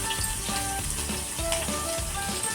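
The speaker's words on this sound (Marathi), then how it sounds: "आपली आता वांगी जवळ परतत आलेली आहे" Eggplants sauté in oil for a traditional Maharashtrian salted brinjal dish, crackling and sizzling loudly and continuously up close, with a few scrapes of stirring mixed in.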